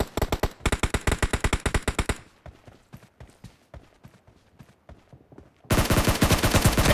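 In PUBG Mobile a SCAR-L assault rifle fires rapid bursts of sharp, loud shots, then slower single shots sound farther off, and a dense close burst erupts at the end.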